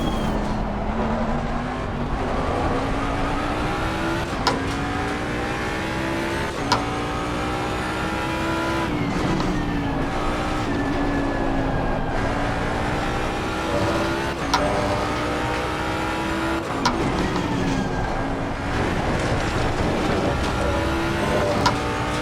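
A race car at Monza in a racing video game drives a continuous lap. Its engine whines loudly and steadily, the pitch climbing and dropping through gear shifts and corners with no break.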